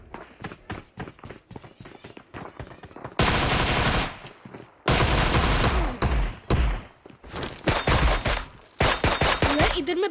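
A cheap Scorpion gun fires in a shooter video game in rapid automatic bursts, loud and close, with short staccato volleys alternating with long sustained strings of shots.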